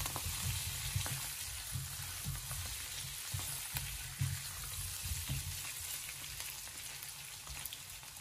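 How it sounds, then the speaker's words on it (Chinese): Chinese white radish, blanched and returned to a wok with chili bean paste oil, sizzles steadily while a metal spatula scrapes and tosses it in quick, repeated strokes, close and without speech. "再把焯过水的白萝卜重新的回锅，用锅铲给它快速的翻炒均匀"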